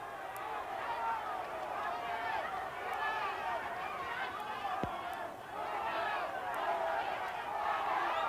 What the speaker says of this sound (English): you can hear the crowd as they start to get in it here in the fight